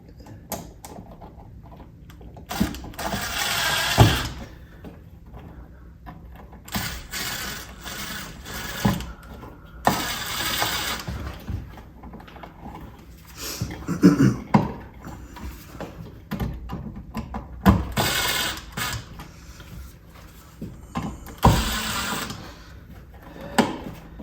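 Screwdriver tightening a screw on a 3-way light switch during home wiring work, heard as repeated ratcheting and whirring bursts in short runs separated by pauses, close and moderately loud, with no voices.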